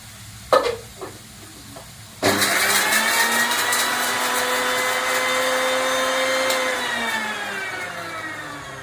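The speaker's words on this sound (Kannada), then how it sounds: "ಮೆಣಸಿನ್ಕಾಯಿ ಸ್ವಲ್ಪ ಕೊತ್ತಂಬರಿನ ಮಿಕ್ಸಿಗೆ ಹಾಕಿಬಿಟ್ಟು ಪೇಸ್ಟ್ ಮಾಡ್ಕೊಂಡು ಬರೋಣ." After a few clicks, a kitchen mixer grinder whirs loudly to life and spins steadily for several seconds, grinding green chillies and coriander into a paste. Its pitch shifts slightly before it winds down, with no talking.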